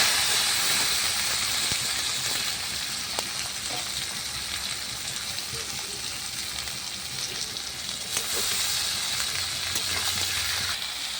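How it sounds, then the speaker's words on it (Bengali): Chopped cabbage, potato and onion fry in oil left from frying fish, tempered with black cumin and dried red chilli, giving a continuous close sizzle and hiss with occasional soft stirring clicks and no talk. "তেল দিয়ে ভালো করে ভেজে নিলাম বাঁধাকপিগুলো"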